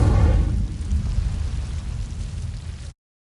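A fire spell cast in Hogwarts Legacy, a loud rumbling whoosh of flame that bursts at the start and then roars steadily for a few seconds before cutting off abruptly.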